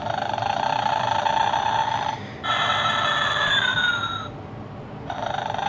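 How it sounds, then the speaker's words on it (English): A vintage 1969 Santa Claus doll toy gives a mechanical snore: a steady, buzzing tone in two long stretches with a short break between them. It plays fairly loud and alone, with a falling pitch near the end of the second stretch. "It's an old doll from 1969 and I love it. The Santa snores"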